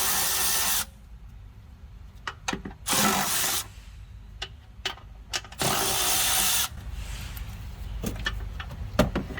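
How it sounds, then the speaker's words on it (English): A socket wrench ratchets in several rapid bursts while loosening a car battery's hold-downs, the clicking runs alternating with quieter clanks and handling noise, close and loud. "let me grab a socket and get these hold downs off"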